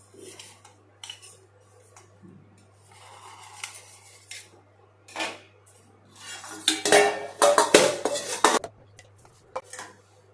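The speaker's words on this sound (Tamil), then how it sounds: "இதில் அப்படியே லேசாக சுற்றியும் கத்தியில் எடுத்து விட்டுறலாம்" A knife scrapes and clinks around a metal dish to loosen steamed egg, with sparse taps early and then a dense burst of rattling metal scraping near the end, close and alone.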